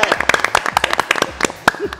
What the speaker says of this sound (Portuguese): Um aplauso aí!